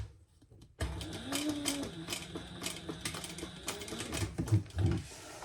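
A sewing machine stitches just above the slit of a shoulder bag, running in a steady, continuous mechanical whir for several seconds after a quiet start.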